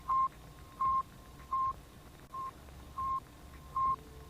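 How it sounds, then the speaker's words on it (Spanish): Sputnik satellite radio signal: six evenly spaced, short, pure electronic beeps at a steady rhythm, faint over a low background hiss, with no voices. "¿Alguna vez habías escuchado la señal de radio del Sputnik?"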